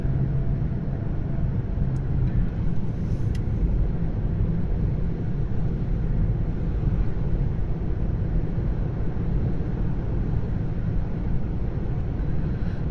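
A car cruises along a quiet country road in Virginia, heard from inside as a steady low road rumble and wind noise with no breaks.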